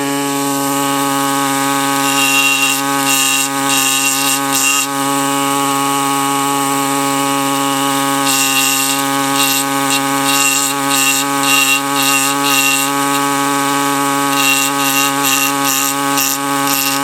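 A power tool grinds steadily to strip rock from the vertebrae of a Nematonotos fossil from Lebanon, giving a constant loud high whine with repeated bursts of harsher scraping as it bites into the stone.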